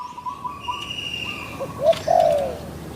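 A couple of short bird calls ring out near the end, over steady background hum; soft, low cooing-like notes from a spotted dove.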